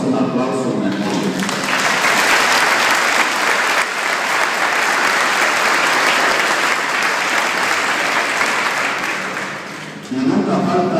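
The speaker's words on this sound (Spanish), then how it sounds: "Damos un aplauso en el nombre" A congregation at a church's 50th anniversary celebration bursts into long, loud applause lasting most of the stretch, with a voice speaking briefly before it starts and again as it fades.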